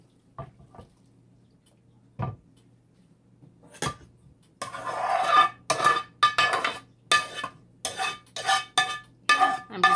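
A ladle scooping onions out of a crockpot of caldo de res (beef soup), giving a few soft clinks early and then a busy stretch of scraping, clinking and splashing broth, close and moderately loud.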